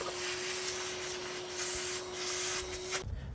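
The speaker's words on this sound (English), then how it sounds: "we're going to vacuum off the top of the tank to keep debris from falling in the tank" A vacuum cleaner run over the top of a Chevy Silverado fuel tank to clear debris: a steady whining suction hum with rough rubbing and scraping noise, close up, cutting off near the end.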